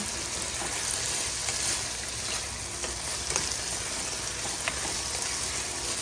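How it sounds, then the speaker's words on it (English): Teriyaki sauce thickened with cornstarch sizzles in a hot pan, a loud, continuous, dense hiss and crackle that holds steady from start to finish with no voices over it. "once that cornstarch mixture starts hitting heat, it'll start caramelizing, and you can see it right there in the pan"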